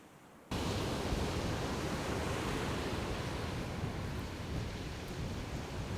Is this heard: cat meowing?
no